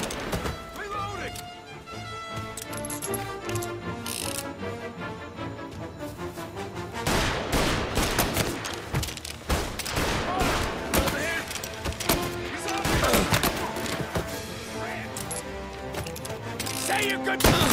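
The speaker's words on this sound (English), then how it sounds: "Gunshots being reported." Rapid bursts of gunfire crack repeatedly amid chaotic game sounds and shouted voices in Mafia: Definitive Edition, dense volleys growing heavier midway through.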